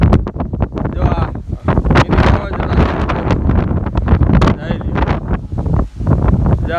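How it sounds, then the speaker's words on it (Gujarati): Strong stormy wind in Porbandar, loud gusts buffeting the microphone in continuous roaring bursts, with coconut palms thrashing nearby and someone talking over the rush. "પવન એકદમ ફૂલ છે"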